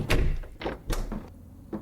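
Several loud wooden door thuds and slams in quick succession inside a house in the horror game Fears To Fathom: Woodbury Getaway, each a sharp close impact with a short decay.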